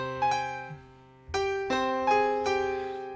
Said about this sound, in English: And then we get that riff played on this music box sort of sound like this,